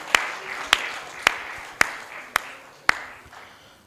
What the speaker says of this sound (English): Please, a resounding round of applause to her one more time.